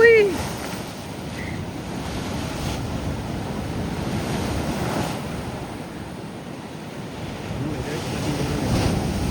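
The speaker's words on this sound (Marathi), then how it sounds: "लाटा आणि पाणी कुठच्या कुठपर्यंत येत आहे" Sea waves wash onto the shore at Harihareshwar on the Konkan coast in a continuous, broad roar. Wind buffets the microphone throughout, and a faint brief voice is heard near the start.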